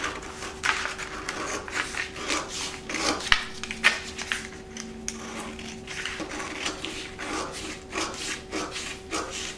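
Scissors or shears cut out a paper coat sleeve pattern piece, a close continuous run of rasping snips and rubbing paper with a steady hum beneath.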